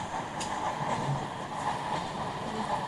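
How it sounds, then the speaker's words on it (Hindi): A simulated parcel train runs toward a level crossing in the Open Rails railway simulator, giving a steady rolling rumble with faint wheel clatter and brief squeaks throughout. "सामने क्रॉसिंग चल रही है पार्सल HP4 के नाम से ट्रेन आ रही है"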